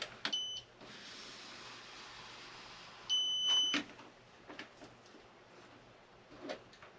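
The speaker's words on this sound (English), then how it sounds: "And when it first beeps, that's the edge." A short electronic beep from a stud finder on a pantry wall, then a longer sustained tone a few seconds later, both close and clear, followed by light tapping and handling sounds.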